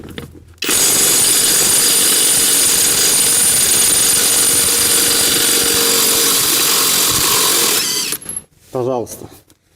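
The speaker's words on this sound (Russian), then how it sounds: "Так, погнали пробовать." A LUDYVI BL800 cordless brushless impact wrench hammers loudly and continuously at a CV joint axle nut for about seven seconds, then stops, leaving a few brief clanks and a short voice.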